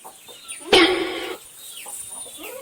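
Chickens, including chicks, clucking close by on a farm, with one loud, harsh squawking burst partway through, then softer scattered clucks.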